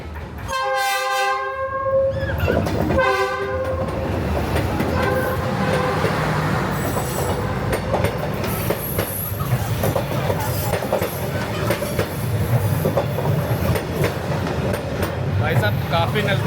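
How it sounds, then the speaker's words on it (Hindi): A train runs through Hanoi's narrow train street, its horn blaring loudly in a few long blasts before the close, sustained rumble and rattle of rail cars rolling past. "तो ट्रेन के आने का वक्त हो गया है"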